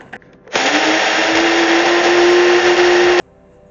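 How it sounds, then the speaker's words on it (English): An electric spice grinder whirs loudly for about three seconds, pulverizing lavender, black peppercorns and rosemary leaves into a fine seasoning. The motor rises slightly in pitch as it spins up, holds a steady high whine, then cuts off abruptly. "And then I am going to grind that up very finely."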